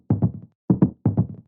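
Bongo loop pitched down eighteen semitones with a shortened release, giving deep, dry hand-drum hits in three quick pairs of two or three strokes, close and clear with brief gaps between groups.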